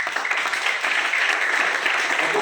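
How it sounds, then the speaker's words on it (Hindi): Audience applause fills the room, a dense, steady wash of clapping from many hands that holds level throughout with no pauses. "प्लीज जबरदस्त तालियां बजाइएगा"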